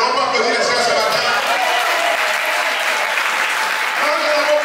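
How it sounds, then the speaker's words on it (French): A church congregation at an Easter Sunday service breaks into loud, continuous applause for the men, with the clapping rolling on for several seconds under shouts and voices from the crowd. "On peut applaudir les frères ce matin."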